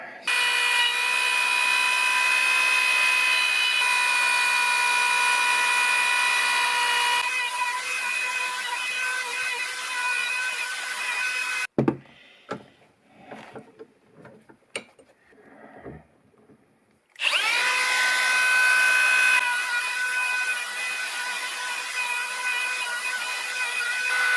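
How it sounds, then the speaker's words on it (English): A router contouring the foam sole of a Hoka Clifton running shoe clamped in a vise, whining loudly and steadily, dropping out mid-way into a gap of bumps and knocks, then spinning back up to full pitch. "I have no idea if this is going to grab or if this is going to allow me to router"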